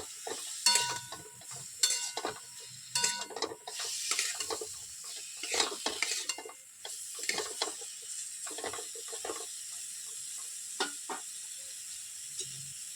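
Tomato and star fruit chutney stirred in a pan, with a spoon scraping and clinking in irregular strokes over a soft sizzle, close and moderately quiet, thinning out toward the end.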